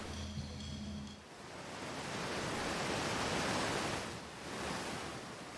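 Steady roaring rush of a waterfall in the game Outer Wilds, a broad dense wash of falling water that swells and dips slightly, heard alone after a brief tonal game sound at the start.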